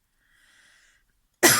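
A single sharp, loud cough bursts out near the end after a faint, brief hum, with nothing else around it.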